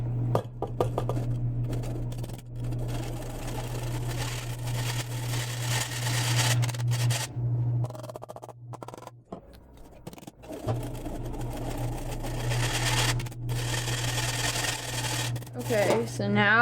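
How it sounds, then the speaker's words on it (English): Two cups of flour worked through a sifter for Thanksgiving pie dough, a steady mechanical whir with light scraping and occasional clinks that runs nearly continuously, pausing briefly in the middle. "first we have to sift 2 cups of flour"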